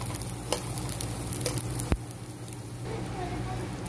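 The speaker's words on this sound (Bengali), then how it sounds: "টিকাগুলো আমি আস্তে আস্তে বেজে নিলাম।" Pieces of camel meat tikka frying in a pan, a soft continuous sizzle close by with a few sharp clicks and taps of utensils against the pan, and light talk in the background.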